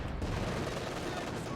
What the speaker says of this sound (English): Grenadiers open fire on the MG.